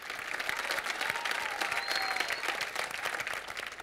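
Audience applause at a live business competition show, a dense steady clapping from a large crowd lasting the whole stretch, loud and unbroken with no talk over it.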